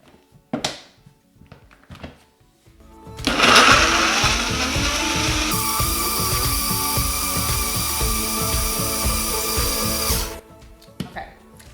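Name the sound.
blender blending a green smoothie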